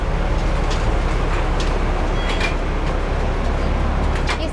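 A Hong Kong tram passes along the road as a loud, steady low rumble with faint clanks and higher squeals of the running gear throughout.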